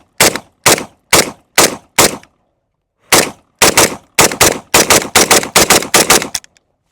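An AK-47 rifle firing: five loud, separate shots at a steady pace, a pause, then a quickening string of sharp, close cracks in rapid succession, with no voices.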